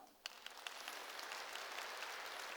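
A church congregation claps during a Korean sermon on prayer, starting suddenly after a brief hush and swelling into a steady, fairly soft and distant wash of applause.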